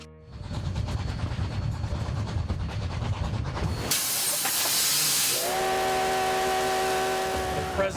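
Loud steam hissing from a coal-fired steam train on open prairie, followed by a sustained steam whistle blast, with rumbling rail noise underneath.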